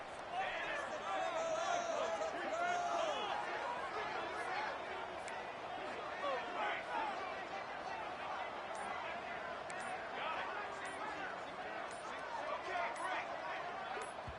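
A football stadium crowd roars during a fourth-down play, loud enough to force the offense into a false start: a dense, steady wall of cheering and babble that stays close and sustained throughout, with a few sharp accents over the din.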